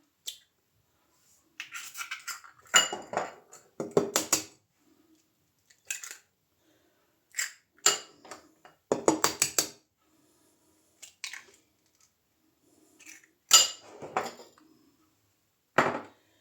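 Irregular bursts of clinking and scraping from a utensil beating three eggs with salt in a bowl, in short spurts separated by pauses, close and moderately loud, no talking.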